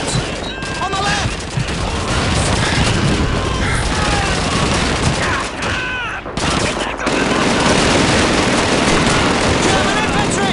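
Relentless MG42 machine-gun bursts and booming cannon fire fill a Call of Duty 2 battle, loud and continuous for the whole stretch, with shouted voices and explosions mixed into the chaotic din.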